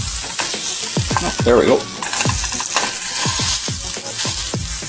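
Venison bacon sizzles and crackles loudly as it fries in a pan, with scraping spatula strokes and repeated clinks of utensil on metal; a man briefly mutters a few words.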